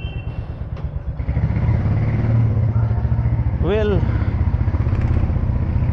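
A Royal Enfield motorcycle engine runs close by with a steady, thumping idle rhythm that rises in level after the first second, while someone speaks over it.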